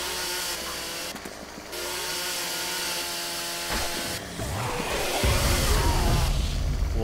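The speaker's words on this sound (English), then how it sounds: "break down this door with your big manly chainsaw" A chainsaw in the zombie survival game 7 Days to Die revs and cuts in long, buzzing stretches with a brief break, growing harsher and louder toward the end as it chews into a door.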